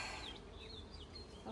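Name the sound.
honeybees buzzing at an opened hive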